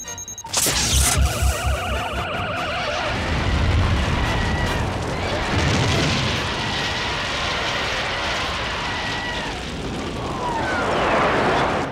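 Laser beams fired at a monster in an Ultraman TV episode, a sharp zapping burst followed by a long roaring, rumbling blast with sweeping whooshes, loud and continuous.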